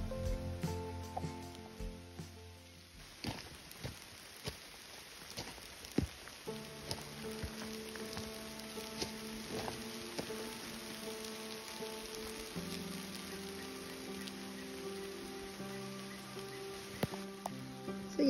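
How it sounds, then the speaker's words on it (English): Light rain patters steadily with scattered drops and crackles on a forest trail, quiet and close, with a faint tonal hum running underneath. "As we're heading out, rain's picking up."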